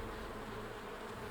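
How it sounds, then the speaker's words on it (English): A swarm of bees hums in a steady, dense drone that fills the whole moment, faint and continuous with no voices over it. "Bees!"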